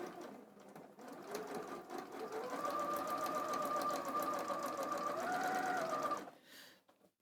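Sewing machine stitching with a quarter-inch foot, a steady close mechanical whirr that holds for about six seconds and then stops, with no talk.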